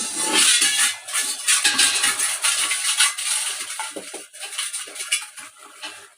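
A spoon scrapes and clinks against a pot while stirring ground coriander into a turnip, pea and fenugreek curry cooked in ghee, with repeated metallic scraping strokes, close and fairly loud.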